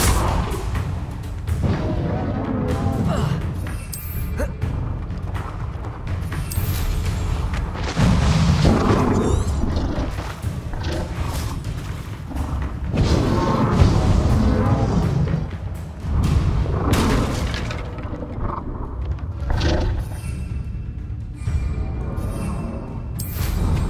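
Bombarda and Confringo explosion spells go off in Hogwarts Legacy, a string of loud booms and whooshing blasts that repeat across the whole stretch of combat.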